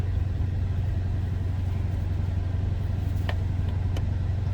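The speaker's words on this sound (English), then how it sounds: "That was a cold start" A 2013 Dodge Challenger SRT8 engine runs steadily after a cold start, giving a continuous low, even rumble close by with no other sounds over it.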